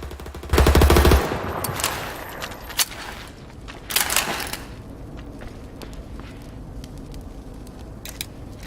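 Bursts of automatic gunfire from DMG and SIG weapons in the shooter game World War 3, a loud burst at first followed by shorter separated volleys with quiet gaps between.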